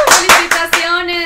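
A few sharp, loud hand claps ring out close by in an uneven rhythm, about four distinct strikes over a sustained tonal hum, as an audience applauds a winner at a motivational talk.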